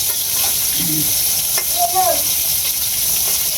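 Fish fries in a pan with a loud, continuous sizzle and crackle, while brief voices talk faintly underneath.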